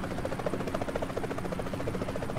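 A helicopter flies in a video game, giving a steady droning rotor buzz with a fast rhythmic chop that holds at an even loudness throughout, with no talking.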